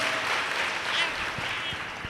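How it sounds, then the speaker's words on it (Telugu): A church congregation at a women's gathering clapping together, a continuous wash of many hands at a fairly loud, even level, with faint voices underneath. "చప్పట్లు కొడుతూ దేవునికి కనపరుద్దాం."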